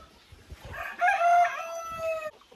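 Hens in a farmyard coop making drawn-out, wavering clucks and cackles, one bird prominent in the middle, with soft rustling and scratching before and after.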